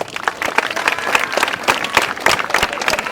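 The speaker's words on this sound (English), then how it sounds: "Please give him a round of applause, please." A crowd at a school gathering applauds a student union president, dense steady clapping that carries on throughout, with a few voices mixed in.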